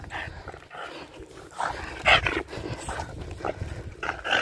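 An aggressive shelter dog growls and snarls in short rough bursts, close by, with scuffling and movement around it.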